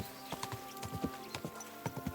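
Horse hooves clip-clop along a path in the video game Kingdom Come 2, a steady run of distinct, fairly close hoof strikes at an unhurried walking pace with no talking.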